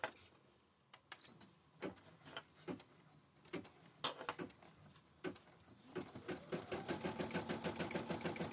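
A sewing machine stitches, beginning with scattered clicks and taps and then settling into a rapid, steady whirr over the last couple of seconds, fairly quiet and without talk.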